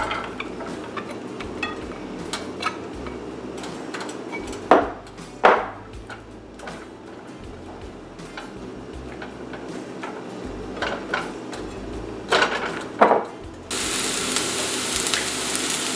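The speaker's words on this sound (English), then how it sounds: "I'm gonna start by sauteing my onions until they are translucent." Onions sauté in olive oil in a pan with steady background sizzle, occasional clinks and stirring knocks, and a louder burst of frying hiss near the end; no one speaks.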